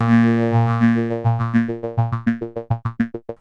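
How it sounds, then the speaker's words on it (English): A synthesizer tone through a Moog Moogerfooger envelope effect, pulsing in a rhythmic arpeggiator-like pattern, the repeated notes getting shorter and faster as it goes, with no voices. "that sounds like an arpeggiator, doesn't it?"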